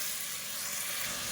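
Tomatoes, mint and coriander stems sautéing in a pan give a dense, even sizzling hiss that holds steady and close throughout.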